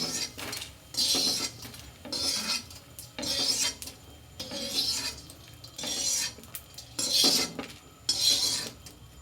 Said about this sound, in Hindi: और अब गोंद निकाल लेते हैं हम।